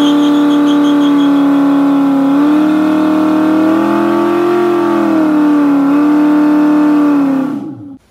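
A car engine in a home garage revs hard and holds at high revs for several seconds with wavering pitch, loud and close, before cutting off sharply at the end.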